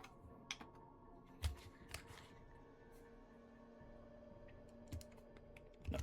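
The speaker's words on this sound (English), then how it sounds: "Let me bring my keyboard closer, I forgot to do that." A computer keyboard shifted on a desk and tapped, giving a few sparse, faint clicks and knocks spread across quiet room tone, with no talk.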